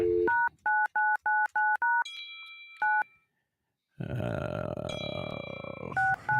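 Several rapid telephone keypad tones beep in a quick run, followed by higher tones, a broadband burst of line noise with a steady tone, and more dialing beeps, all loud and close with no talk.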